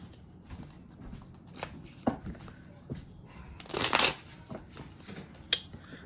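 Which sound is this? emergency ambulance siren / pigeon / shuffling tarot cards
shuffling tarot cards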